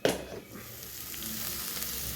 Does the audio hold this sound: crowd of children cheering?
no